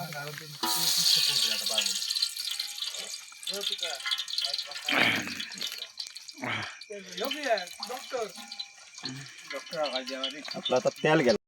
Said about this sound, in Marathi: तेल गरम झाला. आता टोपात फोडणी कांदो टाकलो.